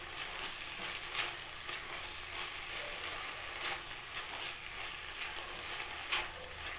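Potato and eggplant stir-fried in a pan for a Kolmi shak recipe, a steady close sizzle with scattered scraping stirs and small spatula clicks.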